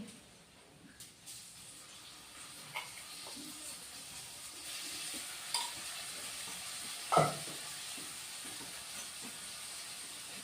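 Chili paste hisses faintly in a frying pan alongside fried potato, a low steady sizzle with scattered soft clicks and one louder knock of a utensil against the pan.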